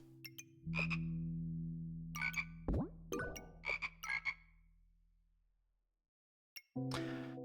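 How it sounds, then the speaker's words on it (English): Toads croak in a video game, a string of short resonant croaks in uneven bursts with tonal game notes humming underneath, then a brief pause before another sustained croak. "Toads, toads, toads."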